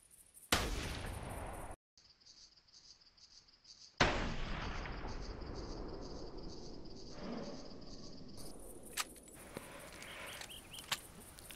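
Rifle gunshots in theHunter hunting game at Redfeather Falls: two sharp, loud shots a few seconds apart, each with a long reverberant tail, over a faint outdoor ambience of insects.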